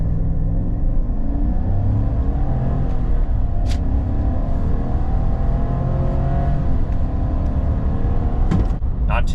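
A 2025 Chevy Silverado pickup with the 5.3 V8 pulls away from idle in auto and sport mode with traction control off, its engine rumbling steadily and loudly as it accelerates hard for the full run.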